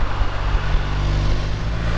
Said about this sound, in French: On a une très belle sonorité au niveau de l'échappement, travaillé par BM, c'est assez sympa, c'est très sourd, très joli bruit.